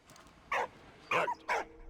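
A dog gives three sharp, loud barks close by, spaced about half a second apart, alone over quiet room background.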